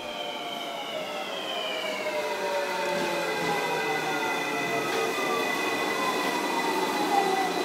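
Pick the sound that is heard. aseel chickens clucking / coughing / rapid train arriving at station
rapid train arriving at station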